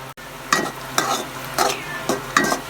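Onion and garlic fry lightly in a pan, a soft background sizzle punctuated by about five rhythmic scraping strokes of a stirring spoon, close, with no speech.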